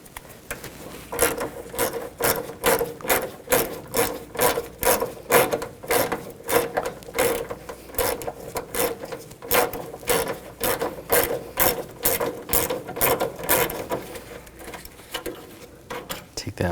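A ratchet with a 10mm socket removes a bolt during alternator work on a 2014-2020 Nissan Rogue 2.5L. It gives a close, rhythmic run of clicking strokes at a regular pace for the whole stretch.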